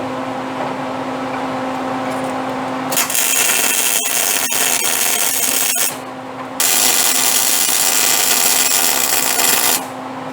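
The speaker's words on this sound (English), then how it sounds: "let me drag it out, weld that up" Welding a bracket during rear suspension and brake work on a car, a loud broadband crackling hiss in two long bursts separated by a brief pause, with sharp snaps punctuating the first burst; no talk.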